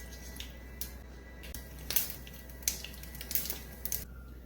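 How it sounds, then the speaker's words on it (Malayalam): Mustard seeds spluttering in a tablespoon of hot coconut oil in a pan: sparse, sharp pops and crackles scattered over a faint hiss, close by and fairly quiet, with no talking. "കടുക് പൊട്ടുമ്പോൾ"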